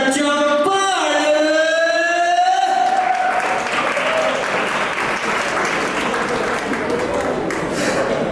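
Loud sustained applause from the audience at a state award ceremony, opening under a held electronic or musical tone that gives way to dense, steady clapping filling the hall.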